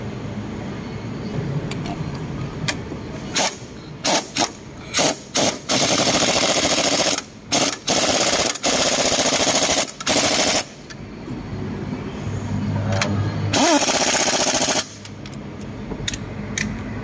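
Impact wrench tightening bolts on a Ford Fiesta engine support, a loud close rattling hammer in repeated short bursts and longer sustained runs, with brief pauses between.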